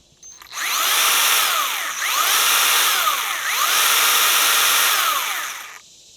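A battery pole saw with a 9-foot extension whirs loudly and steadily in three long surges, with a high, smooth buzz and brief dips between runs.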